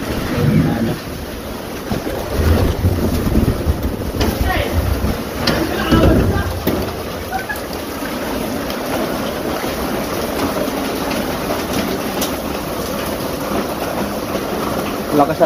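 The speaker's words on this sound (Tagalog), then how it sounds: "Lakas ng tubig oh." Strong floodwater rushing during a typhoon, a loud continuous roar of churning water close by with wind noise and a few heavier surges.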